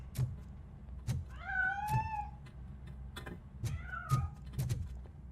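Several cat meows in the video game Robocop Rogue City, rising and falling calls repeated at moderate distance over a low steady ambient hum, no speech.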